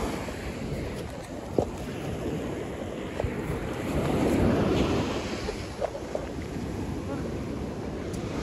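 Sea surf in Turkey rolls and washes onto the shore in long waves under heavy wind buffeting the microphone, swelling louder midway through.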